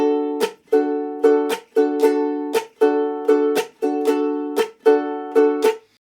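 Ukulele playing an island strum, ringing strummed chords broken by sharp percussive palm-muted chucks in a steady repeating rhythm, close and clear with no voices.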